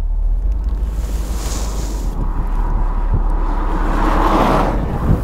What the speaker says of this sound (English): It's idling very smoothly.